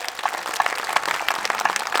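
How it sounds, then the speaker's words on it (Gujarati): Audience clapping at a tribal culture fair in Surkhai, a steady patter of many hands that stays fairly loud and dense for the full two seconds, with no voices over it. "તમામ માટે એકવાર જોરદાર તાળીઓનો ગડગડાટ થઈ જાય"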